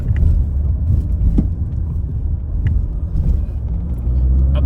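A car on a broken, potholed Himachal mountain road between Manali and Sethan gives a heavy, continuous low rumble, with sharp rattles and knocks from below the cabin scattered through it.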